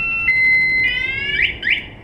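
A shrill electronic anti-theft alarm on a 2018 Brozz 250 motorcycle beeps and shifts through several tones, ending in short rising chirps, close and loud.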